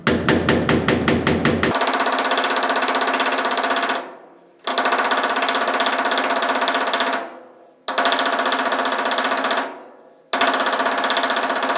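Metal hammer blows beating dents out of the rear body panel of a Pontiac GTO under restoration: a rapid close burst of sharp strikes, then long ringing, grinding stretches broken by short pauses.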